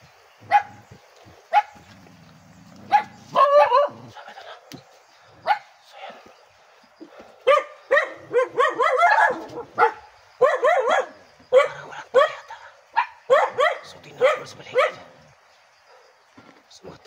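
Dog barking outdoors in a quiet rural spot, sharp barks arriving in irregular bursts, some single and some in quick clusters, fairly close and loud, with a few softer whimpers between.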